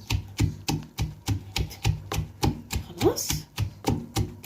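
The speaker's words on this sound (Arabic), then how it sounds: "وبعدين ادق مع الثوم كده اهو" Small pieces of a cooking ingredient are pounded with garlic for an okra and meat dish, giving a steady run of close, sharp thuds at an even rhythm, about two per second.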